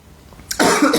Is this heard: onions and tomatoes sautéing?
no